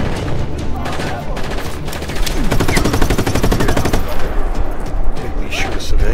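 Gunfire in Just Cause 3 erupts in loud, rapid automatic bursts that grow denser partway through, sounding close and continuous, with voices talking underneath.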